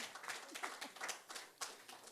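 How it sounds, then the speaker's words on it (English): Audience applauds Monday Gift at an NTA News event, scattered individual hand claps with uneven rhythm, fairly sparse and moderately quiet rather than a full roaring crowd. "A round of applause for Monday Gift"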